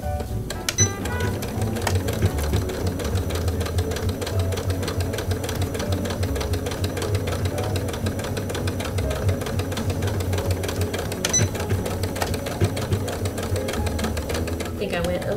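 A sewing machine backstitches and stitches across a hemp canvas pencil case, a continuous close mechanical whir with rapid needle ticking that runs steadily throughout while someone talks over it.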